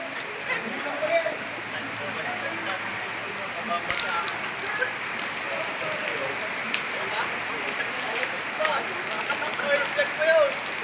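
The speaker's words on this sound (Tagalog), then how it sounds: "Lakas ng ulan guys." Steady, dense hiss of heavy rain pouring down, with faint crackling patter throughout and no voices.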